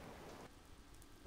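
Steady patter of rain in Minecraft, a soft continuous hiss that drops slightly in level partway through, with no talking over it.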